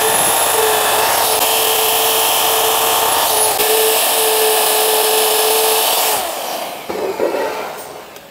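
A power drill whines at a steady high pitch for several seconds, then winds down with a few rough bursts as it bites into a hitch plate while drilling holes.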